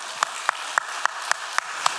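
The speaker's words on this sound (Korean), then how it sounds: "자, 우리 옆 사람 박수 쳐줄까요?" A church congregation at a Korean Sunday morning service claps in unison, seven steady, evenly spaced claps at a moderate pace.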